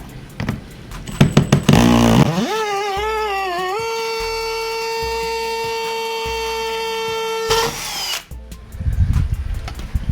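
Power drill biting through material to open a hole for a screw: a few short trigger bursts, then a loud motor whine that rises in pitch and holds steady for several seconds before stopping, with clicks and handling noise on either side.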